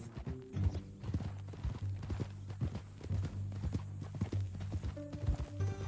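Steady clip-clop of horse hooves on a hard surface in Red Dead Redemption 2, an even walking rhythm close by, with a low droning hum underneath.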